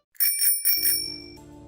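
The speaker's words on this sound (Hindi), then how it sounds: "ये घंटी कैसे बजी?" Bicycle bell rung sharply close by, two quick bright ding bursts followed by a ringing metallic tone that fades out, with no talking.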